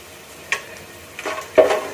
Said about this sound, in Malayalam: ഇത്രയും കൂടി നമുക്ക് ഈ നെയ്ക്കകത്തിട്ട് ജസ്റ്റ് ഒന്ന് ഫ്രൈ ചെയ്തെടുക്കാം